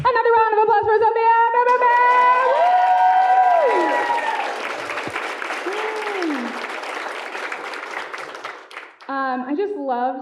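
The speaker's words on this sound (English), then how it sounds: "Another round of applause for Sofia." An audience at a university visiting artists and critics talk breaks into loud, sustained applause, with voices heard just before and just after the clapping.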